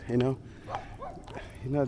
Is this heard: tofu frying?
no